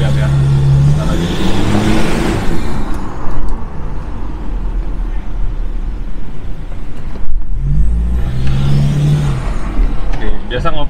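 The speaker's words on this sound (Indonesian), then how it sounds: "Bisa dilihat naiknya cepet banget, dan juga perpindahan giginya ini loh guys" A modified Toyota Innova accelerates hard, engine note rising loudly and then briefly dropping as a gear change comes through before climbing again, close and continuous, with talk mixed in.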